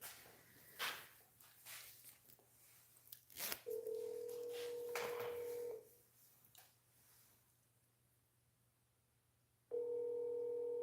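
Phone ringing in a video game, heard as two long steady electronic ring tones separated by a pause, each fairly loud, over quiet game ambience with a few soft clicks and footsteps.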